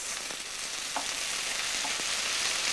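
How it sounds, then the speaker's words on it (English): Peas frying in a pan with light brown fried ingredients, a steady close sizzle with a few soft scrapes of stirring, no voices. "Fry them for a while."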